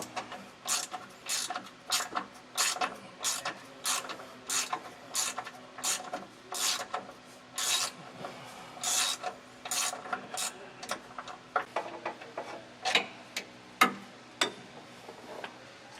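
A socket wrench with a 13mm socket works a bolt loose to remove a jounce bumper on a 2013 Fleetwood Bounder motorhome, giving repeated short ratcheting rasps in an uneven rhythm, close by and moderately loud.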